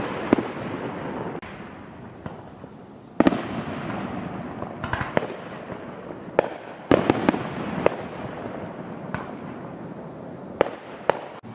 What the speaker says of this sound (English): I just wanted to show you some of the fireworks that I saw tonight.